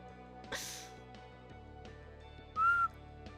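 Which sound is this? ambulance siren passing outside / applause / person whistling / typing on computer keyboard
person whistling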